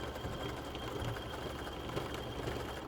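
A sewing machine runs steadily, stitching stretch knit fabric for a bralette band, a continuous close mechanical hum and rapid needle chatter with no voices.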